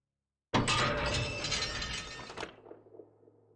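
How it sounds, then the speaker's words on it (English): Mine cart tracks shifting in Pillars of Eternity give a loud, abrupt crashing grind that sustains for about two seconds, then breaks into scattered metallic clanks and a low lingering hum; no talking. "There's a grinding noise, and then the tracks shift ahead of you, just in time."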